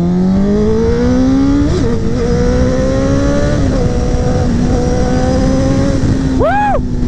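Triumph Rocket 3 motorcycle engine pulling hard, a loud continuous engine roar whose pitch climbs steadily, then a quick rev surge near the end, heard close.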